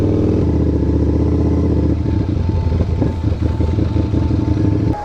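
A Ducati big bike ridden with a passenger, its engine loud and close throughout, a steady low rumble with a shift at about two seconds into a choppier, pulsing beat as it rides on.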